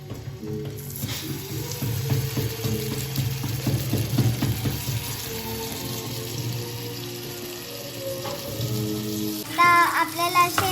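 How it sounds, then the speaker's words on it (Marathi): Fish frying in a pan at a farmhouse gives a continuous sizzle and crackle throughout, mixed with some clatter and a short burst of voices near the end. "फिश फ्राय होत आहे आता"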